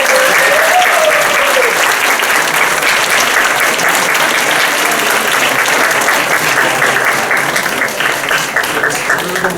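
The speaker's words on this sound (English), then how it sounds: "A big applause for our head of department," Audience applause at a stage theatre performance, a dense, loud, sustained wash of clapping from a crowd lasting nearly ten seconds, with a brief voice at the start.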